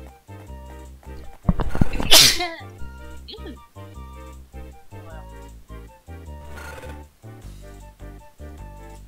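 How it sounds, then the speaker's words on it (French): A single loud, explosive sneeze near the start, standing out sharply over quiet background music. "Je vais éternuer."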